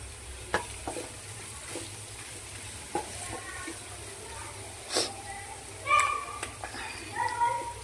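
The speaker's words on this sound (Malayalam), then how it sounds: "ഉള്ളി ഒന്ന് വാട്ടിയെടുക്കാം. അതിന് കുറച്ച് തേങ്ങാക്കൊത്തും പച്ചമുളക്, ഉള്ളി, കറുവപ്പട്ട, ഗ്രാമ്പു എല്ലാം ഇട്ട് ജസ്റ്റ് ഒന്ന് വാട്ടിയെടുക്കട്ടെ." Onion, coconut pieces, green chili, cinnamon and cloves being sautéed in a pan for a clam fry, with a soft, steady sizzle and occasional stirring clinks under a low background hum.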